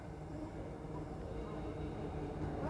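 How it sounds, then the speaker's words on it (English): An EMU electric train on the Ferny Grove service pulls into Woodridge Station, a steady low rumble and rolling rail noise filling the short stretch, with a voice speaking faintly beneath. "our Fernie Grove train is now coming in. It is another EMU service."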